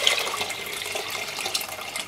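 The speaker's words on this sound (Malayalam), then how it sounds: "ഇനി നിറയെ വെള്ളം ഒഴിച്ചു കൊടുക്കുക" Water pours steadily into a pressure cooker of chopped vegetables for Kerala sambar, a continuous close splashing rush that lasts throughout with no voices.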